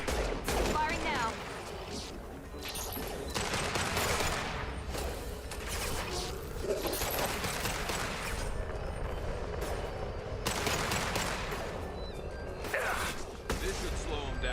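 Sustained bursts of gunfire from a Mass Effect 2 firefight, with repeated volleys and crashes layered over one another at steady loudness, mixed with intermittent voices talking.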